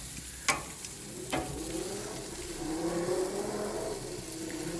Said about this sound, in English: I turned up the heat a little bit so that it starts to sear